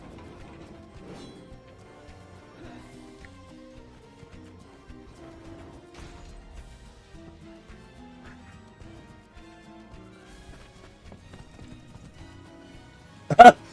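Horse hooves clip-clopping in the Gold Mining Simulator video game, a soft steady patter running under faint game music for most of the stretch, ending in a sudden sharp loud burst near the close.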